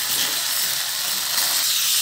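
Gas stove burner roaring on a high flame while cooking seblak, a steady loud hiss throughout with no speech.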